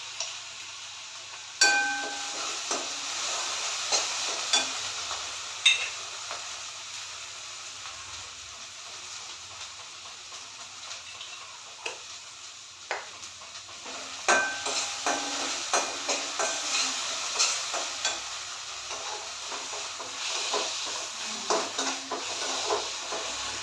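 Halwa with cashew and almond slivers and cardamom is stirred in a pan, under a steady frying sizzle and hiss, with the spoon's scraping clicks coming at irregular intervals and no talking.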